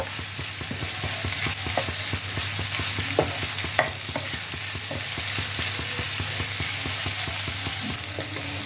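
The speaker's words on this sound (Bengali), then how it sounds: "আদা রসুন কুচিটা ভালোভাবে তেলের মধ্যে ভেজে নিতে হবে যাতে এর কাঁচা গন্ধটা না থাকে" Chopped ginger and garlic sizzle loudly in hot oil, a continuous close frying hiss with rapid, regular stirring taps and occasional sharper scrapes.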